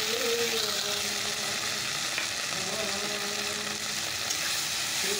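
A spice mix with turmeric fries in hot oil, a constant close sizzle with faint stirring underneath and no pauses.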